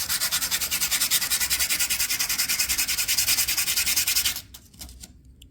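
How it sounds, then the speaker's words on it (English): Bicycle disc brake pads rubbed on sandpaper in a steady, rapid back-and-forth scratching rhythm, loud and close, stopping near the end with a few lighter strokes. "So let's take the brake pads with the sandpaper."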